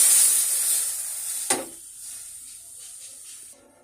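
Mustard paste added to frying fish in a pan sets off a loud hiss that gradually fades, with one sharp clack partway through and a quieter sizzle trailing off.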